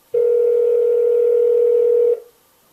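A single steady telephone tone sounds on an outgoing call, loud and close, holding for about two seconds before stopping abruptly into silence.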